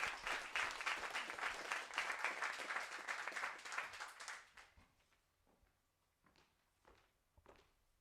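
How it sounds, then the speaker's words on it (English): Audience applause for a speaker at a university research-talk final, a dense roomful of clapping that holds for about four seconds and then tapers off to a few scattered claps and thumps. "Give him a round of applause."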